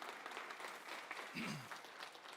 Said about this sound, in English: I'll give Justin a round of applause.